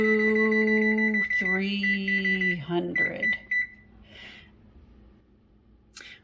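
Oven timer on a kitchen oven during choux pastry baking, giving a steady electronic beep tone with harmonics for about a second and a half, then a shifted higher tone, fading into quieter kitchen noise.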